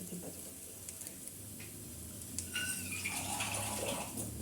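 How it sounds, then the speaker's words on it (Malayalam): Water poured into a pan of crab masala with tomatoes, a soft steady pouring and bubbling sizzle that swells midway through, close and fairly quiet, with no talk. "ഇനി നമുക്ക് കുറച്ച് വെള്ളം ഒഴിക്കണം."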